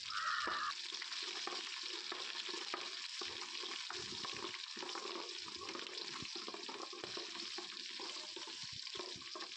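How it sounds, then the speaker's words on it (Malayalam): Garlic, chili and ginger sautéing in oil give a continuous soft sizzle with faint scraping stirs throughout, fairly quiet and steady, with no talking. "ഇത്രയും സാധനങ്ങൾ ഇട്ടിട്ട് നന്നായിട്ട് വഴറ്റിയെടുക്കണം."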